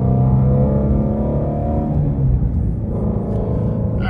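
Shelby GT350R accelerating onto a highway, a loud, steady low engine drone with rising harmonic tones for the first two seconds, then settling into continuous road rumble with no talk.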